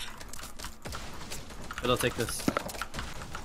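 Faint clicks from a computer keyboard during a game of Fortnite Battle Royale, scattered quick taps beneath people talking.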